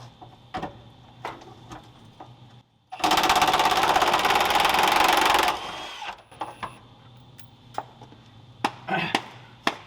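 A power tool spins bolts out of a car, one loud steady whirring burst of a few seconds with scattered clicks and clanks before and after.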